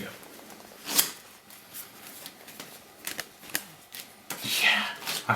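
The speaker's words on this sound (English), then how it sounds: "That was just an awful shuffle." A deck of playing cards is shuffled by hand, giving bursts of crisp riffling and flicking at irregular intervals, close up and moderately loud, with a louder, longer riffle near the end.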